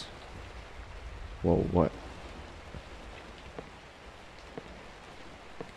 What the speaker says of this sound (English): Starting to rain. I need to go inside fast.